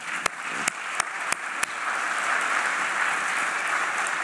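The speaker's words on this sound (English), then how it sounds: "We can applaud him if you want." Audience at a session of the General Assembly of States Parties to the 2003 Convention: a few separate early claps quickly swell into steady, continuous applause from a large hall that holds evenly to the end.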